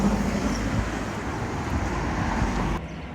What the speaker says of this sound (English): as that train disappears out of shot from under the bridge